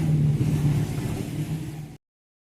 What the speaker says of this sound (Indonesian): Mesin penggilingan ini digerakkan oleh mesin diesel yang di sana.